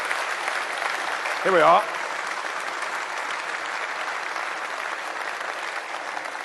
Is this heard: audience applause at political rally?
yes